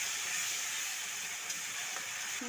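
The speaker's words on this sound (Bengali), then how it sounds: "মশলাটা দিয়ে ভালো করে কষিয়ে নেব" Ground spice paste sizzles in a pan during the cooking of a winter peas and potato curry, a steady close hiss of frying that holds unbroken, with no talking.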